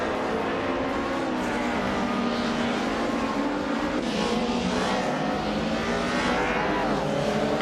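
Race car engines roar steadily through a racing video game, a BMW M3 GTR Evo among the field, with a dense, loud, continuous drone of several cars at high revs and shifting pitch, and no voices.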